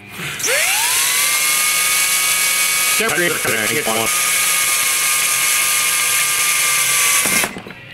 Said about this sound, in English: you get just a ribbon of whatever the metal is out of your drill bit